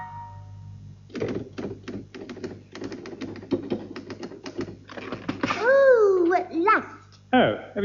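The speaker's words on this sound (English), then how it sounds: "me typing finger will never be the same again, Mr. Lennox Brown" Manual typewriter clacking in a comedy sketch, a rapid run of sharp, close key strikes in an uneven rhythm, followed by a voice speaking over the end.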